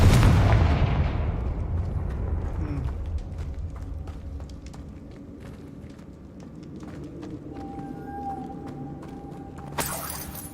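Spell-cast explosion from the Confringo fire spell in the video game Hogwarts Legacy, a loud blast at the start that decays into a rumbling tail, followed by quieter ambient game sounds and a short sharp burst near the end.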